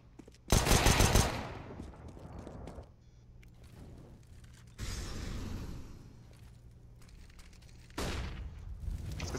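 Gunfire in CS:GO on the Mirage map during a competitive match, with loud bursts of automatic rifle fire at the start, middle and end, separated by quieter stretches of distant shooting and game ambience.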